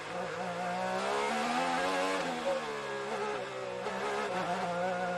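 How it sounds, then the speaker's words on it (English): A race car engine drones loudly and steadily during practice at the 2024 Detroit Grand Prix, its pitch easing down slightly as it short-shifts up a gear, with no other sounds over it. "You can hear him just grab the taller gear"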